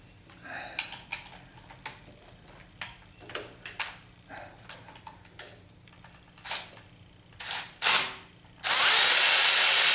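A power tool works bolts loose on a 1976 Corvette under restoration, with scattered clicks and clatter of parts, a few short whirring bursts, then a loud sustained close whir at the end.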